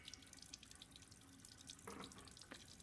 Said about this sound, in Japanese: 水、血濡れの指輪を洗うのか。